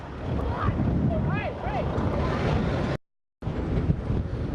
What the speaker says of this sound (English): The wind is so bad here in Palm Springs that it caused this stoplight to fall over.